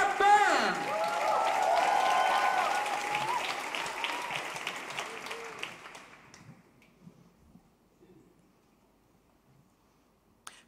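A poetry slam audience bursts into applause and cheers, loud and full for several seconds over a host's amplified voice, then thinning out and fading into near silence.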